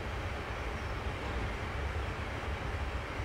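An electric Chinese bullet train races along the track in Train Simulator 2018, producing a steady, dense roar of rolling and motor noise that holds constant throughout with no talk.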